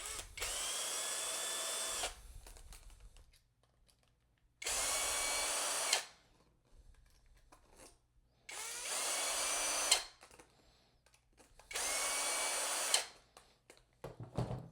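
A cordless power drill removes screws from a metal plate and drill bit holder on a Thor's Machinery cordless machine, in four loud, whining bursts of about two seconds each, separated by quiet pauses with small handling clicks.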